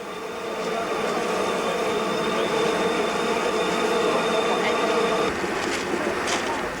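The steam locomotive Pendennis Castle at Midland, near Perth, gives off a steady, loud rail rumble that holds throughout without a break.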